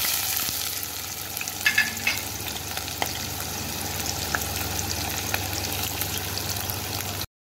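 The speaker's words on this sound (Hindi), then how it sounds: "अब 1 प्याज बारीक कटी हुई वो हम इसमें डाल दें।" Finely chopped onion frying in oil in a pan left from cooking moong dal seekh kebabs for a kebab karahi gravy, a steady dense sizzle with occasional stirring scrapes, close and continuous.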